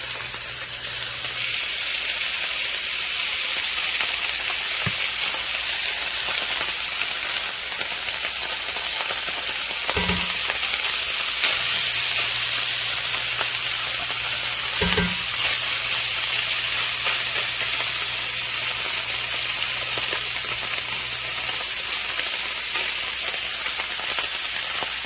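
Canned corned beef hash sizzling and frying in oil in a pan, a loud, steady hiss with a couple of sharp knocks as it is stirred, and no talking.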